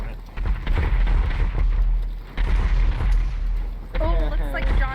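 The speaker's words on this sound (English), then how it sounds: "We're taking mortars, people." Heavy mortar blasts in a video game, with booming low rumbles that swell around one and two-and-a-half seconds and again near four seconds. The loud, dense barrage sits under game noise and brief voice-like sounds.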